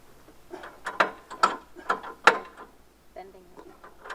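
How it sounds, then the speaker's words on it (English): A ratchet tightening the rear track bolts on a Caterpillar 267B, sharp clicking strokes in an uneven series of about seven, close and fairly crisp against a quiet background. "I'm going to tighten it up and get those final 2 bolts in the rear."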